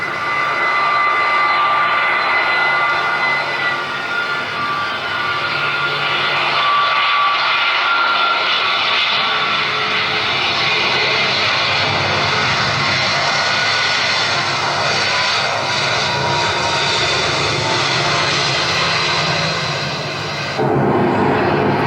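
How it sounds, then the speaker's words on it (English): Space shuttle touching down on its main gear, a loud continuous jet-like roar with whining tones that holds steady throughout and drops off abruptly near the end. "There's a shuttle."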